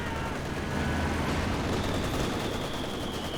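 Two Jackson tank destroyers open fire on a Panzer IV in a Company of Heroes 2 battle, giving a dense, continuous roar of gunfire and rumbling battle noise with no clear pauses.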